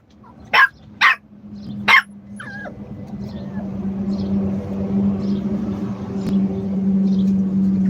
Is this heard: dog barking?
yes